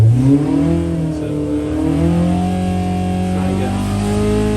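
A road car engine on small chokes is revved up toward about 7,000 rpm, its close, loud note climbing and holding in steady pitch swells.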